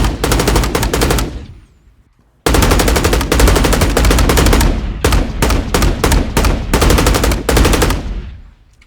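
Layered machine gun fire built as a game audio effect rattles in loud, rapid bursts, with a long sustained volley, a short pause of silence, then more repeated sharp automatic salvos close up.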